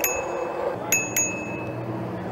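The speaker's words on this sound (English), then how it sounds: "Gotta hit them with the bell sometimes" Two quick rings of a bicycle bell on an electric bike sound out close by, bright and sharp, over steady outdoor road and wind noise.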